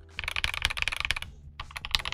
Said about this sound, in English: it's a little bit muted. It's not as loud as a steel plate keyboard usually would be